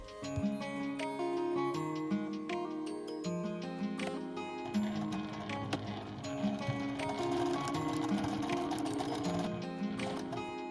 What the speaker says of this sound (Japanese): ピース2つ置きの縫い目の際にミシンステッチを入れます。